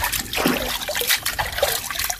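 Close, irregular splashing and trickling as a hand stirs the water surface in an open well, with brief gurgles and drips over a couple of seconds.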